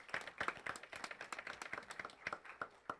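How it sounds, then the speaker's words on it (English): A small scattered round of clapping at a school board meeting, a few people's individual claps audible as separate sharp hits at fairly low volume, with an uneven, loosely synchronized rhythm. "Let's give Claire a round of applause."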